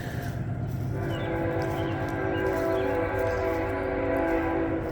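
A train rolls past near the tracks in Bosworth, a steady rumble with sustained tonal horn-like ringing through most of the stretch, fairly close and alone without talk.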